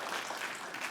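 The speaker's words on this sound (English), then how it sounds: "Oh, that was a pretty weak applause." A small audience gives brief, thin applause, scattered claps that sound sparse and somewhat distant for about a second.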